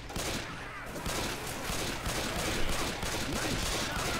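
Rapid, dense gunfire in the zombie shooter Left 4 Dead 2, a continuous muffled fusillade of overlapping shots filling the whole few seconds at moderate level, with faint voice chat barely present.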